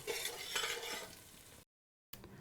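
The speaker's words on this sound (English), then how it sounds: "Now, we'll give everything a stir" Spiced onions for tomato soup are stirred in a pot, with soft scraping and light sizzling. The sound is faint and cuts out completely for a moment before returning.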